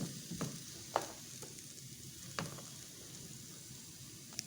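Chopped onions fry in a hot pan and get stirred with a spatula. A steady low sizzle runs underneath a few distinct scraping strokes, heard up close without any voices.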